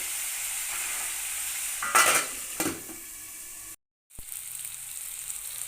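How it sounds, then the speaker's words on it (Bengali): Potatoes and cauliflower sizzling and frying in a pan, with a louder burst of stirring and scraping partway through, a brief gap, then steady sizzle resumes. "আলু ফুলকপি প্রায় ভাজা হয়ে গেছে আর অল্প কিছুক্ষণ ভাজতে হবে"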